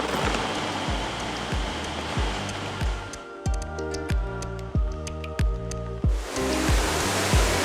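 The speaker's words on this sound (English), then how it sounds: "Oh, it's the train." An airport train rolls past with a steady broadband rush like flowing water, overlaid by a regular series of rhythmic clacks and tonal bursts in the middle stretch before the rushing noise swells again.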